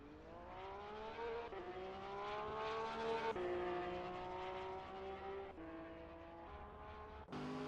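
Porsche 911 GT3 R race car in an EU GT3 racing video game at Watkins Glen, engine droning steadily with rising pitch through gear shifts, loud and continuous with no talk over it.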